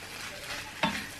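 Chicken biryani being stirred in a pan, a single brief scrape near the end standing out over a soft background sizzle.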